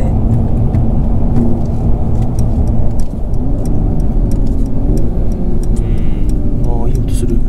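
A 2018 Mercedes-Benz CLS450 hybrid cruises on a public road, its engine a steady mid-range hum and rumble inside the cabin with occasional rises in revs and people talking over it.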